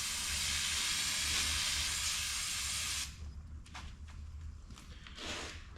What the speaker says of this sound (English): Just like a bit of brake cleaner does the trick nicely.